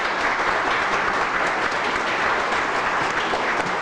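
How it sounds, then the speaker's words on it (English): A board meeting audience in Homer Glen applauds the Community Nature Awards winners. The clapping is steady and dense, fills the room and carries on without a break, with no voices over it. "Let's give all the award winners a round of applause."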